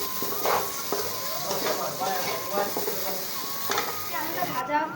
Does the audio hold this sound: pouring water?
no